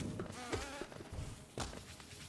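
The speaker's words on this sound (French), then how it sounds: "Un bourdon." A bumblebee enemy in the Hollow Knight video game buzzes as a droning hum amid game music and short sound effects, moderately loud and briefly swelling.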